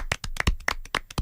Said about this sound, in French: on applaudit pour Dan